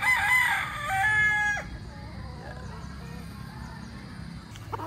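A spangle gamecock rooster crows close by with a loud, drawn-out cock-a-doodle-doo in the first second and a half, then quieter background noise follows.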